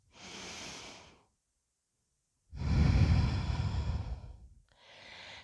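Slow, audible yoga breathing: a soft breath, a pause of silence, then a long, louder exhale, followed by the start of another breath, close and alone.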